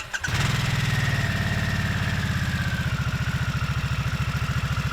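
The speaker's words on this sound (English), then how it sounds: "So let's get into the Nightster's exhaust note and the engine vibration." A 2022 Harley-Davidson Nightster motorcycle engine cranks and catches, then settles into a steady, low, even idle with a rapid pulsing beat, close and loud with no talk.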